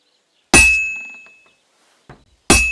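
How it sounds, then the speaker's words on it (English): A smith's hammer strikes a heated sword on an anvil in the video game Kingdom Come Deliverance 2, with two loud, ringing metallic clangs about two seconds apart and a fainter knock between them. "Now take the hammer and try hitting it a few times."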